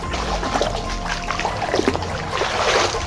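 Water trickles and splashes steadily in a creek, close and continuous, with small bubbling bursts over a low outdoor rumble.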